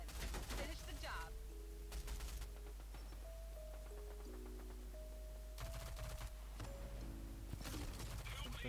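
Pump-action shotgun fire in the shooter game Rogue Company, with sharp bursts near the start and again around the sixth and eighth seconds over steady game music and effects.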